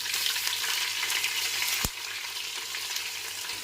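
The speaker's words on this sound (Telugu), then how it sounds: "అలాగే అల్లం, ఆనియన్స్ కూడా వేసేసి బాగా వేపాలి" Ginger and onions sizzle steadily in hot oil in a pan for coconut rice, a dense, even frying hiss with one brief knock partway through.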